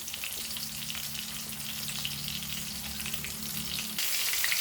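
Prawns coated in rava fry steadily in a pan, a continuous close sizzle with a low bubbling hum that brightens and grows a little louder near the end, with no talk.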